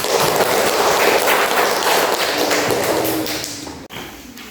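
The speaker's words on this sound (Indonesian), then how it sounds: "beri aplaus kepada kelompok 3" Classroom full of pupils giving a round of applause for a student group after their presentation, dense steady clapping close and loud for about four seconds, then tapering off abruptly.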